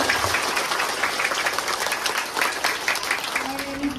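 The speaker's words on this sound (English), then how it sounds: "Clap, clap, clap, clap." Schoolchildren clapping together at a Teacher's Day celebration in a classroom, a steady dense patter of many small hands at close range, with voices audible faintly underneath.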